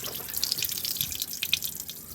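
Water from a hose back-flushing a car radiator from underneath the vehicle, a steady hissing splash with dripping and trickling throughout.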